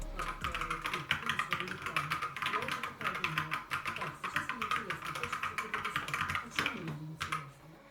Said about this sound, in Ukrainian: просто послухайте, друзі, як вони цокотять